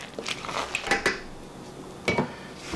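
Mung bean and bitter gourd sauté with thinly sliced bitter melon stirred in a pot, a few soft scraping clinks of utensil against metal, two brief clusters of knocks with a quiet pause between.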